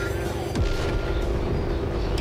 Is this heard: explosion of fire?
yes